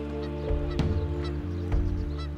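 Geese honk in a few loud, nasal calls in a marsh on Antelope Island, over a low steady background hum, close and distinct.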